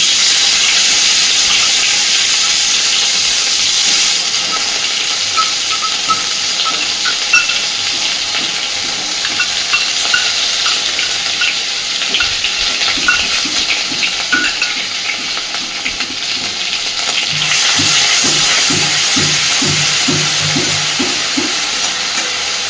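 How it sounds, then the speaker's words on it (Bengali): A ground paste of garlic, cumin, chilli and onion hits hot oil and fries with a steady, close sizzle, joined later by rhythmic stirring scrapes in the pan. "এইবার এই বেটে রাখা মশলাটা তেলের মধ্যে দিয়ে দেব"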